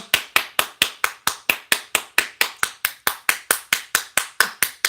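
A single person claps hands steadily and evenly, around twenty crisp, close claps in a brisk unbroken rhythm with nothing else heard.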